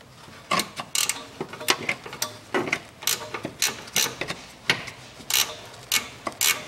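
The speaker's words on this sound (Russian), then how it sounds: "Ну, а теперь затягиваем." A ratchet clicks in quick bursts while tightening a front stabilizer bushing bolt on a 2012 Nissan Qashqai 2.0, with rhythmic ratcheting strokes, close and clear, and no talk.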